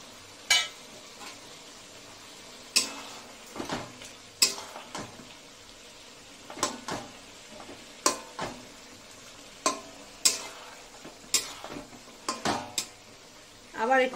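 Spatula stirring and scraping katla fish head and vegetables in a pan for a Bengali shukto, with sharp metallic clinks and scrapes spaced irregularly over a faint low sizzle and no talk.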